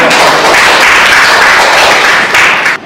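Applause from a classroom audience at an Islamic jurisprudence teaching session: a dense, continuous wash of clapping hands, loud and close, lasting a few seconds before stopping abruptly.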